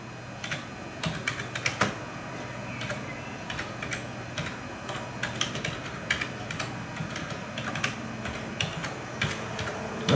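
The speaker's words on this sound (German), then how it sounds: "Man spricht ja heute nicht mehr, man tippt ja nur noch." Someone types a chat message on a computer keyboard, irregular bursts of close, crisp key clicks for about ten seconds with no talk.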